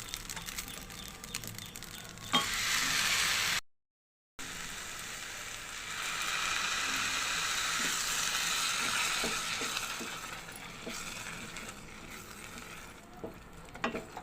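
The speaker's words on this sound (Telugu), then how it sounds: "ఇప్పుడు ఇందులో మనం బెల్లం పాకం పోసేసుకుందాం" Jaggery syrup hits a cooking wheat laddu mixture in a pan with a bright bubbling sizzle that swells and holds steady, with a few knocks of a utensil, a brief silent gap, and no talking.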